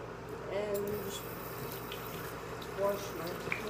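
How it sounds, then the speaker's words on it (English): Running water from a tap splashes steadily into a sink as hands are rinsed of grease, a continuous close wash with a few brief louder splashes, under light background noise. "Wash my hands, get all the grease off."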